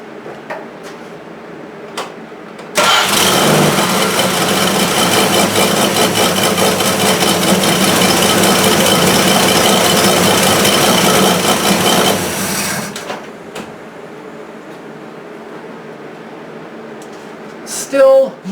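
A 1973 Plymouth Duster's 225 Slant Six fires up abruptly and settles into a steady, loud idle for about ten seconds, then shuts off, with a noticeable exhaust leak adding rasp; quiet shop noises surround it.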